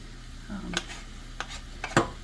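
Crumbled sausage meat cooks in a pan with a soft, steady sizzle, punctuated by a few sharp clicks and scrapes of a utensil stirring.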